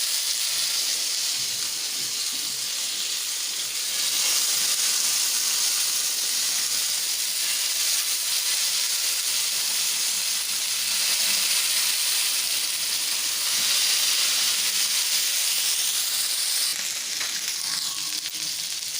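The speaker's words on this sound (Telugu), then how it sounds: "చికెన్ అయితే మనకి ఫ్రై అవుతుంది ఇక్కడ" Cooked tandoori chicken fries in a teaspoon of oil in a pan, giving a loud, continuous close-up sizzle and hiss with occasional swells.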